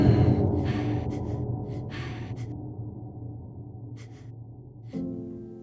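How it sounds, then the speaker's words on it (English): A person in a dramatic narrative performance gasps for air with strained, voiced breaths, loud at first and then fading, with a sharp new gasp near the end. "I'm gasping for air, my body begging to breathe."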